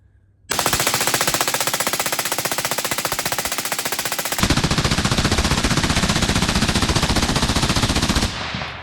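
A rifle fed from a 60-round AC Unity magazine, fitted with an Atrius forced reset selector, fires one long, loud, rapid continuous string of shots outdoors, close up, ending abruptly after about eight seconds.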